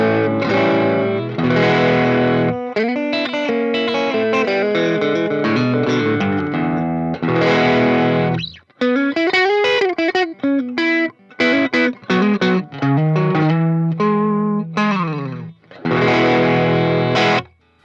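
Electric guitar driven through a Jackson Audio Golden Boy overdrive pedal in blue clipping mode at half gain, playing loud, crunchy chords and single-note runs with short pauses between phrases, no voices.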